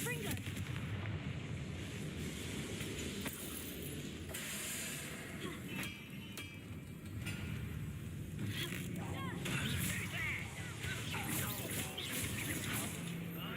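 A Confringo blast spell bursts in the Hogwarts Legacy video game, a moderately loud explosive crack that rolls into a rumbling, hissing wash over a steady background, amid in-game voices.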